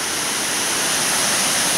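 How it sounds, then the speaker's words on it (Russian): Steady, close roar of the Peshchersky waterfall in Altai Krai, a dense unbroken rush of falling water with no voices over it. "Вот вид сверху водопада."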